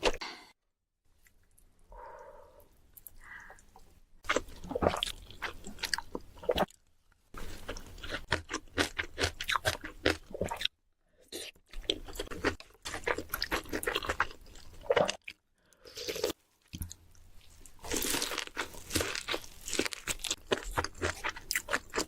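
Giant gimbap rolls and spicy ramen are bitten and chewed up close, with crunchy bites and wet, squishy mastication coming in bursts broken by short silences, and no talk.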